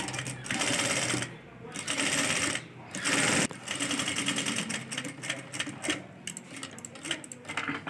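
A sewing machine stitches along the edge of buckram for a dress neckline, in close bursts of rapid whirring separated by short pauses, with someone talking over and between the runs.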